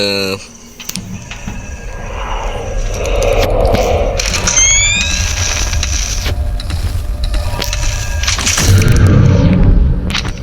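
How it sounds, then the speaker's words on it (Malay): Clanking, grinding mechanical noises with whirring sweeps and heavy booms, like a machine lurching about, loud and close: the animatronic Foxy in a Roblox Five Nights at Freddy's 2 game. "Bunyi Foxy, tu bunyi Foxy"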